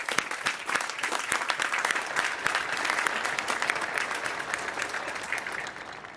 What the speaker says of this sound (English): Please, let's give them our thanks and a round of applause.